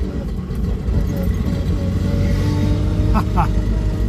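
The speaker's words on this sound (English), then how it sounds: "Gotta drive this car more often." A car with white-wall tires and stiff tire pressure drives along, its steady low engine and road rumble filling the clip, loud and close throughout.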